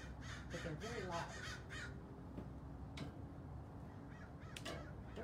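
Black crows caw loudly several times outdoors, with a person talking over the calls.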